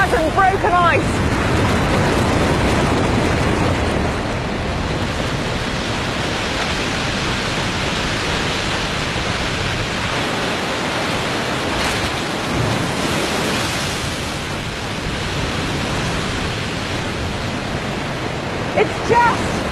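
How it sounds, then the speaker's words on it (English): A waterfall thick with mud and broken ice pours in a dense, loud, continuous roar that fills the whole stretch, with a faint crack or two of shifting ice near the end. "it is pouring and pouring over the waterfall in this great dramatic jumble of mud and broken ice"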